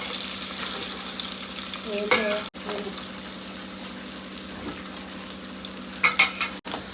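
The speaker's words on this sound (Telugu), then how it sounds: "హీట్ అయింది, ఆనియన్స్ వేసుకుందాం." Onions fry in hot oil in a pan, a steady close sizzle with occasional spoon scrapes and clinks, moderately loud and without talk.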